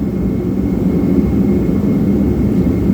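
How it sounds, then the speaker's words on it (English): A shop heater runs in a cold garage in Georgia, producing a loud, steady low-pitched roaring blow that stays constant throughout. "I have the shop heater on because it's actually getting really cold here in Georgia"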